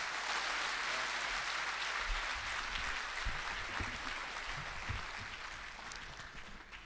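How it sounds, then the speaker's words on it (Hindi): A large audience at a Hindi poetry gathering (kavi sammelan) gives sustained, dense applause as poet Hariom Panwar is welcomed, a steady roar of clapping that thins slightly toward the end. "ऐसे व्यक्ति का जोरदार तालियों से आप स्वागत करें।"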